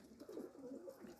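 Soft, low cooing from high-flying pigeons in Pakistan, a brief murmuring run of coos at close range, fairly quiet.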